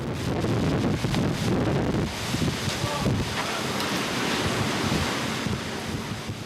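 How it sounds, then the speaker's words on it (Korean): Heavy seawater surging and crashing over the deck of an Antarctic krill fishing ship, mixed with roaring wind noise on the microphone, loud and continuous with a few sharper splashes. "갑판 위로 밀려드는 파도 때문에 작업은 더욱 힘들어지고 있었다."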